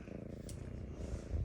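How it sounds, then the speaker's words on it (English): Close, steady purring from a cat, a soft low rumble that pulses evenly and never breaks. "Listen to him purring."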